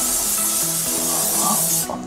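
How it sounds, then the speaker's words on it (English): Cooking spray hisses into a frying pan in one continuous, close, strong spray that lasts about two seconds before cutting off. "now comes the spray and cook."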